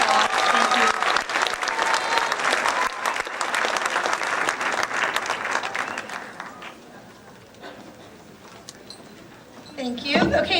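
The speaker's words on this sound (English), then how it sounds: "I'd like you to give all of these award recipients a great hand of applause" An audience at a high school academic awards ceremony claps loudly for the award recipients, a thick wash of applause that thins out and fades before a brief final burst.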